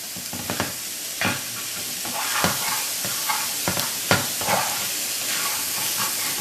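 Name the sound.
paneer cubes toasting in a pan on low heat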